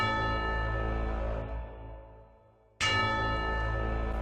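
The magic Bell of Truth, rung by Mael in an anime, gives a clear, sustained bell tone that slowly fades, then rings out again at full strength.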